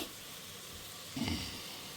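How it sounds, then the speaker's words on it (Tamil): Mustard and fenugreek seeds dropped into hot oil for a tempering, giving a soft steady sizzle that swells briefly partway through, fairly faint and alone. "இப்போ கடுகு வெந்தயத்தை போட்டுருவோம், பொரியட்டும்."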